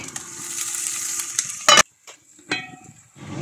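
Potatoes going into hot oil in a pot for turkey biryani, a close sizzle that is cut off by a sharp clatter, then quiet and a brief second burst of frying.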